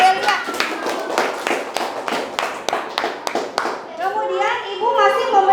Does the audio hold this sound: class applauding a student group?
yes